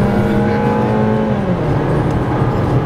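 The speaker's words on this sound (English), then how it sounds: "in a straight line you'll find that the engine is rather responsive" 2014 Chevrolet Malibu engine pulling on the road, a steady harmonic drone that dips in pitch as gears shift, loud and close with no talk.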